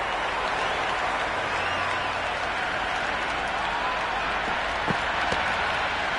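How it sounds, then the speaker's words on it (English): A loud, raucous stadium crowd in a cricket video game roars continuously during a T20 Big Bash League match, a dense, steady wall of cheering and noise with occasional sharper bursts. "The crowd are really getting quite raucous"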